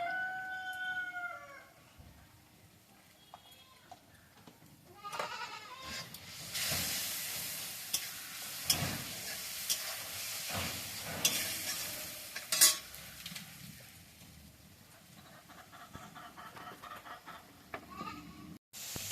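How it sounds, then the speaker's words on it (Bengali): Onion and chilli fry in a pan with salt and turmeric, hissing and spitting loudly through the middle stretch, with a rooster crowing and a goat bleating faintly at either end. "পেঁয়াজ লঙ্কাটা ভাজা ভাজা হয়ে গেছে"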